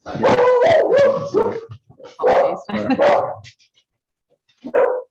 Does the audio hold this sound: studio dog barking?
yes